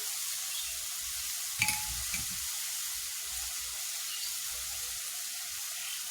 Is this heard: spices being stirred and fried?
yes